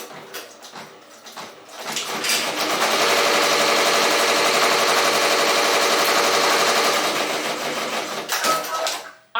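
A Ricoma MT1501 embroidery machine runs a sample, its rapid rhythmic needle stitching rising to a loud, steady mechanical chatter that holds for several seconds before slowing and stopping, with no talking.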